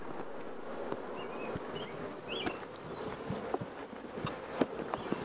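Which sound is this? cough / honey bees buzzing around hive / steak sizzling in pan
honey bees buzzing around hive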